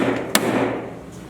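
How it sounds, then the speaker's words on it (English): A hammer strikes a part on a Jeep TJ to seat it, one sharp close metallic knock over a low background hum, then fading quiet. "get a hammer and get this, and just make sure it's seated in there"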